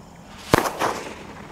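A Diwali firecracker bursts outdoors with one sharp crack followed by a few crackling pops and a fizzing rush as a spinning chakkar cracker goes off, moderately loud with no talk.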